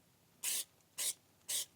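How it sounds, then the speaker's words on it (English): Three short, sharp sprays of aerosol cooking spray onto a hat hiss in a steady rhythm, each about a quarter second, close and fairly loud with quiet pauses between. "Kind of weird putting cooking spray on your hat, but this actually works."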